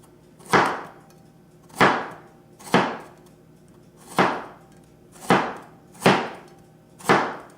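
A knife slicing a carrot into thin rounds on a cutting board, seven evenly spaced crisp chops, close and distinct, with quiet gaps between strokes.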